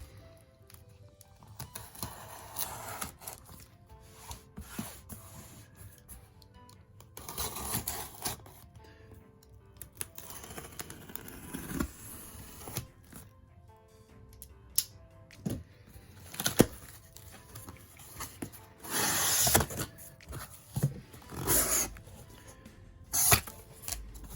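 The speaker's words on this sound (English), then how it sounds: "Let's go ahead and cut it open." A blade cutting open a cardboard shipping box of comics, heard as a series of close scraping and slicing strokes with crinkling, moderately loud and irregular.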